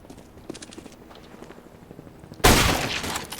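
A sharp, loud burst of rifle fire from the scout rifle cuts in abruptly near the end of a short Counter-Strike: Global Offensive round on Dust II, after quieter in-game rustling and footsteps.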